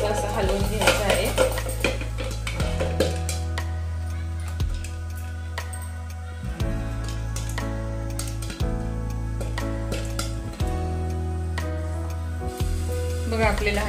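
Sorghum (jowar) kernels pop inside a covered pan being shaken, with sharp dry clicks and ticks, thick at first and then scattered, over a steady droning background.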